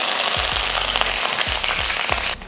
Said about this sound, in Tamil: அந்த கடுகு பொரியறதுக்கும் டைம் வந்து கரெக்டாக இருக்குது